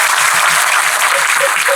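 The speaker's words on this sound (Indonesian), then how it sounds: "Saya ingin Anda semua tepuk tangan setulus-tulusnya dengan mereka." Audience applause at a Kenduri Cinta gathering, a loud, dense wash of clapping from a crowd that continues evenly throughout, with a few voices faintly mixed in.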